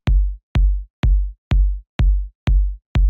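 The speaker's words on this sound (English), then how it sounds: "this short, kind of punchy kick. It's not too like slamming, but it just hits the right amount" Seven short, punchy electronic kick drums for a chill minimal house track hit alone at an even, steady pulse of about two per second. Each one is loud and clean, with a quick boomy decay.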